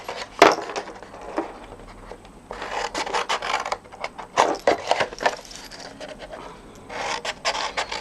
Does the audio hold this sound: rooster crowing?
no